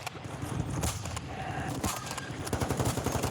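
Gunfire in the video game Warzone 2: a dense run of rapid, loud shots and impacts, with clustered bursts near the start and a repeated rapid volley at the end.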